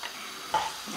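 Soft sizzling and crackling of onions frying in olive oil in a pan for moussaka, with a brief scrape or stir partway through; steady, close, fairly quiet.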